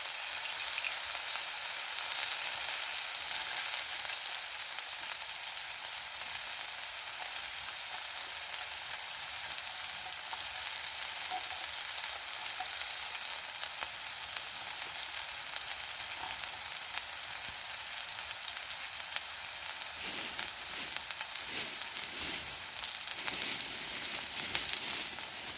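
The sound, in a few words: meat grilling and sizzling while camping in the rain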